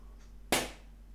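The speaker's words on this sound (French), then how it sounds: "l'explosion d'un ballon dans une pièce, de façon à ne capter que l'acoustique d'un lieu" A balloon bursts in a room: one sharp, loud pop that rises out of quiet and dies away within a short fraction of a second, leaving a brief, tight reverberation tail.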